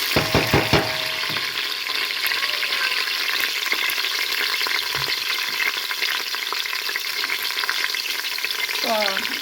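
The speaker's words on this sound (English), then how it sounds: "So I add my onion and stir." Onions frying and being stirred in a pot for Nigerian jollof rice: steady close sizzling throughout, with a few clanks of the spoon against the pot at the start.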